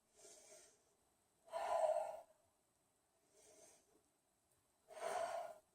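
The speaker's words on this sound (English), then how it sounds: "2 deep breaths here." Deep breathing during a reverse warrior yoga pose: two slow, soft inhale-exhale cycles, the louder breaths near and the quieter ones faint, with no talking.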